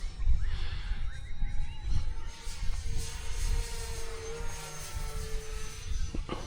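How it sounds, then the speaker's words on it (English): An E-flite Cirrus SR22T radio-controlled model plane buzzes overhead with a steady whining propeller drone that shifts in pitch as it passes, over wind noise, with no talking. "Look at this plane fly."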